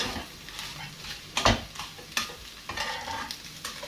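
Instant noodles with egg being stir-fried in a pan, a steady close sizzle broken by repeated scraping and clanking strokes of a utensil against the pan, with no talking.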